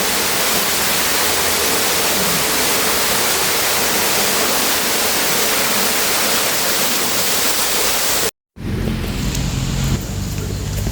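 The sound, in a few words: holy water flowing at Padre Pio shrine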